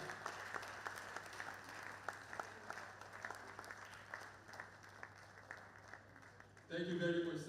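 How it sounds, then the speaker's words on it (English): University lecture hall audience keeps up steady, moderately distant applause, with a constant hum beneath it, before a louder burst of other sound at the very end. "Please keep clapping until Baba comes here."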